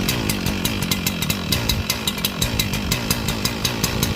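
Echo CS-4910 chainsaw idling roughly after a cold start in freezing weather, a loud close two-stroke engine with a fast pulsing, uneven rhythm throughout.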